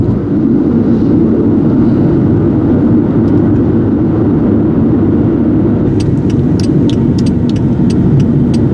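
A 2002 Chevy Malibu accelerates as its automatic transmission downshifts, giving a steady, loud engine drone heard from inside the car, with a rapid run of sharp ticking clicks near the end.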